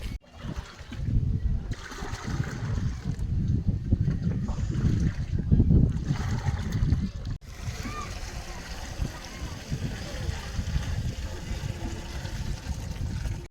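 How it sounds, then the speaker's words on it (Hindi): Clean water mixed with disinfectant pours and splashes steadily from a sprayer tank on a broiler chicken farm, a continuous trickling rush with voices talking over it. "लो जी, पानी गिरने लग गया।"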